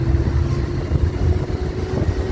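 A supercharged 1991 Mazda MX-5 Miata with a manual gearbox runs with a steady, loud engine drone and a faint sustained whine on top, close and without any talking.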